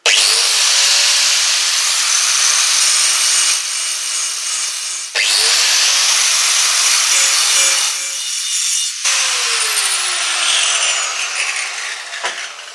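A power tool grinds the edge of a lawn mower blade in three loud, sustained bursts, each spinning up at the start and briefly winding down between passes, with no talking.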